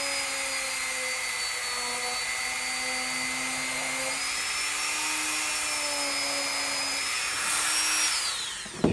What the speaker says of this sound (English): the Dremel is gonna want to like juke and spin out of control in your hand